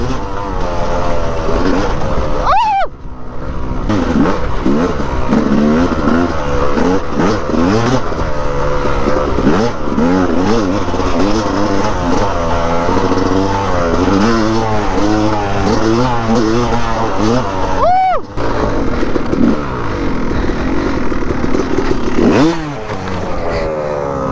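A borrowed motorcycle labors up a steep hill climb, its engine revving hard and loud, rising and falling through gear changes, with brief drops in throttle and scraping clatter along the way.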